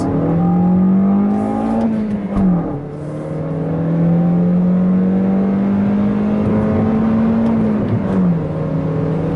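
A 2019 Toyota Corolla XSE manual hatchback's engine drones and rises in pitch as it accelerates through gears, heard from inside the cabin, loud and steady with brief shift dips.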